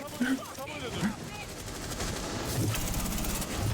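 Rapid gunfire in Rainbow Six Siege ranked duo play, a dense stretch of automatic fire growing louder in the second half, with a voice talking over it early on.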